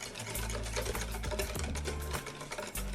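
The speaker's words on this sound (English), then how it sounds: "Keep whisking, and we'll go ahead and pour that in." Eggs are whisked quickly into an ice cream mixture in a bowl for coffee toffee ice cream, giving a fast, steady metallic clatter of the whisk that runs throughout with no talking.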